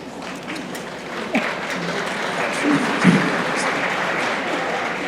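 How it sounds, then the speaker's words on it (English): A modest crowd at a Supernatural fan convention panel in Las Vegas gives a smattering of applause, a soft continuous patter of hands with a few louder individual claps and faint murmurs. "A smattering of applause for sad and redemptive."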